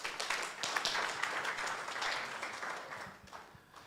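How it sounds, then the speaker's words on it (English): An audience at a municipal audit symposium breaks into a round of applause, a steady wash of many hands clapping together that holds for several seconds before tapering slightly toward the end. "Let's give ourselves a round of applause"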